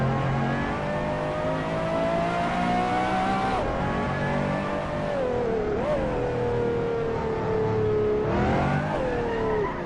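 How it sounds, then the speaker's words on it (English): A million-dollar car's exhaust revs in the Assetto Corsa racing game, a loud, close engine note that climbs and drops through several rising and falling sweeps as it accelerates and shifts, with no talk. "This car has good exhaust, good sound."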